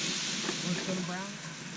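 Ground beef mixed with bacon sizzles and fries in a pan at an outdoor campsite, giving a steady hissing crackle. Wind noise and quiet talk run underneath.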